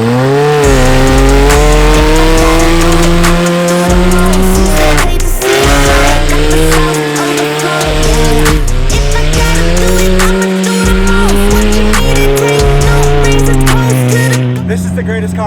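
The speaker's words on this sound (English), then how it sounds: "we got to do some test driving" A Mazda Miata converted into a cheap Baja off-road build is test driven, its engine revving hard and loud up and down through the gears, with tire squeal mixed in and voices talking over it at times.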